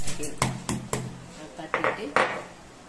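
The spiny claw of a crab being cleaned is tapped lightly with a utensil, making a string of sharp, close clicks and knocks, about half a dozen in irregular rhythm.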